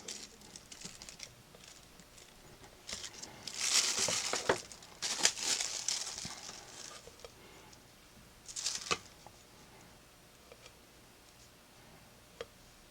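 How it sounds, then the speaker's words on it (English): Plastic wrap crinkles over polymer clay laid out for a faux enamel bracelet, in a few close, crisp bursts of rustling with quiet gaps and scattered small ticks between them. "I'll cover that with a little plastic wrap so I can get a beveled edge"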